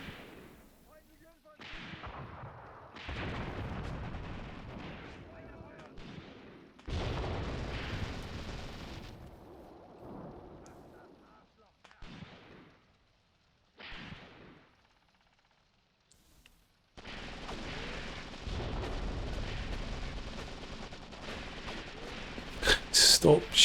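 Gunfire hits the ground in the war game Graviteam Tactics, coming in separate loud bursts of shots and booming blasts split by quiet gaps, with someone talking over parts of it.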